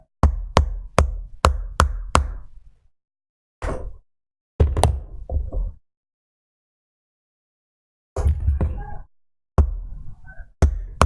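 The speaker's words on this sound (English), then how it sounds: "And we'll use a metal hammer on this," A metal hammer taps lightly on a key driven into the wooden axle of a UGEARS hurdy gurdy kit. Crisp close knocks come in quick bursts of five or six, then single taps and short clusters, with nothing else heard.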